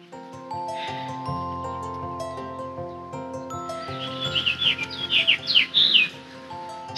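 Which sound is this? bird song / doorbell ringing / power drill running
bird song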